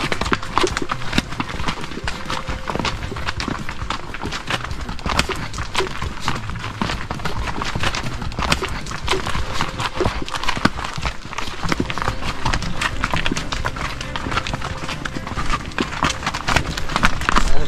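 Horses carrying riders walk a steep hillside trail in Mongolia, their hooves giving a continuous uneven clip-clop over a steady wind-like rumble, with occasional sharper knocks and no clear voices.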